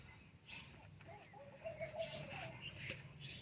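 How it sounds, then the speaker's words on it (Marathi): Birds call and chirp outdoors in the morning, with soft cooing among the scattered calls, moderately faint and without any talking. "बघा सकाळ सकाळी पाखरं किती छान वरड द्यात"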